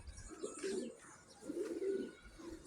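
Pet pigeons coo softly during a sunset flight display, two low, rounded cooing phrases close to the listener, faint against quiet outdoor background with no talking.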